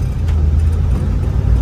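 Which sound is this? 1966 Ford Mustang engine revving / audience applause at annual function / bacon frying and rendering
1966 Ford Mustang engine revving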